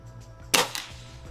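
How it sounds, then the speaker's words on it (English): Two sharp shots from a break barrel air gun, a loud crack followed a moment later by a second, softer pop, over a low steady background hum. "So we just shot 8 shots from that break barrel air gun"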